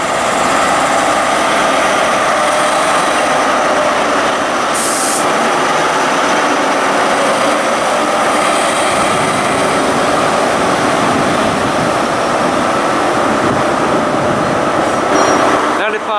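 A train with Class 43 power car 43182 on the rear passes at Reading station on the Great Western Main Line, a loud, steady rumble lasting throughout with a brief higher whine partway and near the end.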